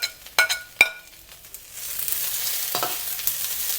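Chopped garlic stir-fried with clams in a hot pan, a few sharp clacks of a utensil against the pan, then a steady hissing sizzle as the ingredients fry.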